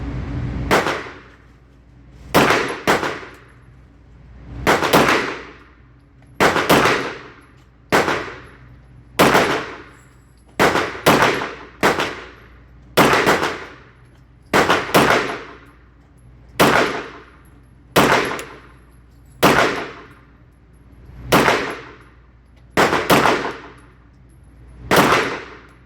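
A Bul Armory SAS2 Tac Govt 9mm pistol fires during break-in, about twenty sharp, loud shots in an irregular rhythm, each with a ringing clang and brief decay.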